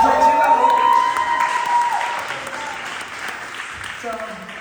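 An audience at a Schwarzkopf hair colour presentation claps steadily, a dense wash of applause that gradually thins and fades while a bright tone and speech run over the start.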